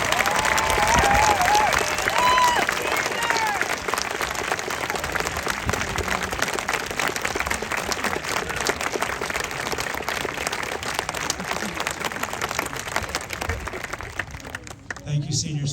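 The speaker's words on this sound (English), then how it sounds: "Please give these brave young men and women a round of applause." Sustained applause and some cheering from a high school graduation crowd honoring seniors entering military service, loud and continuous for about fourteen seconds before fading, with scattered voices mixed in.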